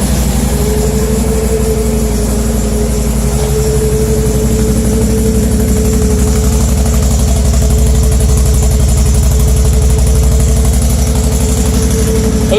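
A stock 2019 Can-Am Outlander L 570 XMR ATV idles close by with a loud, steady, low engine rumble and even, unbroken pulsing that holds throughout.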